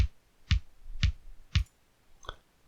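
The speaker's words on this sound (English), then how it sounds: "So the kick is like a really soft" Soft kick drum programmed in FL Studio for chill ambient music, shaped with EQ and a compressor: four quiet, evenly spaced thumps with a slight click on each attack, heard alone.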